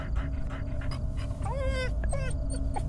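A dog whimpers and whines with high, wavering cries amid soft panting inside a house in the horror game Fears to Fathom: Carson House, over a steady low background hum.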